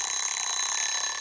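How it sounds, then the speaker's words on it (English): A timer rings out in a tense basement scene from the horror film A Quiet Place, a loud, steady electronic ringing that holds continuously and then cuts off abruptly. "the timer rings out"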